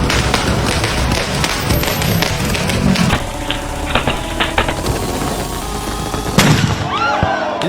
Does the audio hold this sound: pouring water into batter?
no